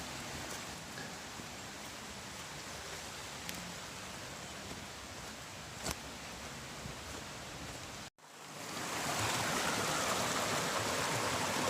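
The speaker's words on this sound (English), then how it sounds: "Just following this little creek here." A small creek flows beside a wooded trail, a steady close rushing wash with a couple of faint clicks. It briefly cuts out, then returns louder and brighter.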